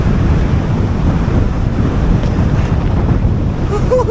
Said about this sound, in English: What an hard wind it is at top of Knott Rigg.